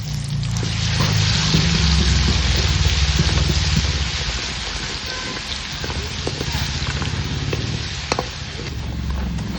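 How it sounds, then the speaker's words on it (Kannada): A tablespoon of ginger garlic paste sizzles steadily in hot oil while a spicy chicken pickle is cooked. The loud, continuous crackling frying goes on throughout, with occasional stirring clicks. "ಇವಾಗ ಇದೇ ಎಣ್ಣೆಗೆ ಒಂದು ಟೇಬಲ್ ಸ್ಪೂನು ಶುಂಠಿ ಬೆಳ್ಳುಳ್ಳಿ ಪೇಸ್ಟ್ ಹಾಕ್ತಾ ಇದ್ದೀನಿ"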